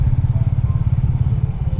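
Royal Enfield Meteor 350 single-cylinder motorcycle cruising at around 30–40 km/h, a steady low thumping engine drone with wind rumble, continuous and fairly loud throughout.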